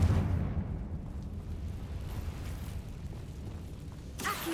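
A Confringo fire spell explodes in Hogwarts Legacy, heard as a continuous low rumbling blast in the foreground, followed near the end by a short crackling burst.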